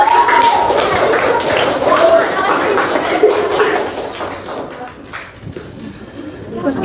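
Classroom applause for a student during an Islamic religious education lesson, a dense crackle of many small hands clapping together for several seconds before thinning out, with some voices mixed in.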